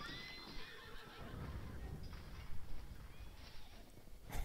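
Several confused horses neigh and whinny over a steady outdoor hiss, with faint hoof clip-clops and scattered noise, heard from a moderate distance.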